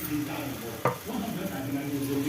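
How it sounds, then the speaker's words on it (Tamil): Ragi (finger millet) dosa batter poured onto a hot, oiled dosa griddle, giving a steady soft sizzle with a brief sharp sound as it lands, continuing evenly with no talk. "இப்போ நம்ம கேழ்வரகு மாவை ஊற்றிக்கலாம்."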